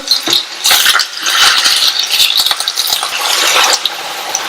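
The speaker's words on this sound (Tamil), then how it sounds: "இந்த வாழைக்காய் எண்ணெயிலேயே ஃப்ரை ஆகி பாதி அளவுக்கு வெந்து வரட்டும்" Dense, crackling sizzle of raw plantain pieces frying in hot oil, steady and close, with occasional clinks and stirring sounds.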